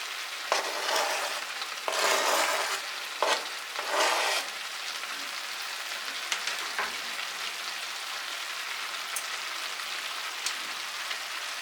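Garlic fries in a deep pan with a steady crackling sizzle, a few louder bursts of spattering early on, otherwise alone and fairly quiet.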